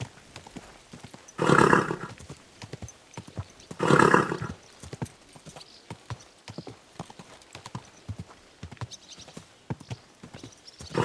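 Horse hooves clip-clopping in a steady rhythm in the video game Kingdom Come: Deliverance 2, interrupted by two loud bursts of breathy snorting or whinnying.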